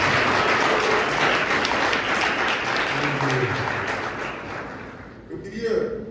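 A church congregation applauds, dense loud clapping that stays steady for several seconds, then thins and fades while a voice briefly speaks near the end.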